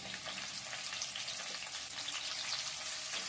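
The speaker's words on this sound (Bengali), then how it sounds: "এবারে এই পেঁয়াজটাকে ভেজে নিব বেশ কিছুক্ষণ" Onion rings frying in a pan after whole spices for a chickpea ghugni, a faint, even, continuous sizzle throughout with no distinct stirring strokes and no talking.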